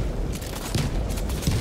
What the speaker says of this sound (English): What is these explosions?